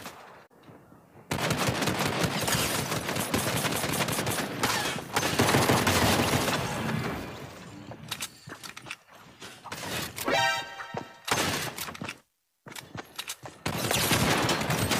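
Rapid bursts of Aqua AR assault rifle fire in Fortnite, loud and close, in long sustained volleys broken by short gaps and a brief silence, with the spray of shots continuing to the end.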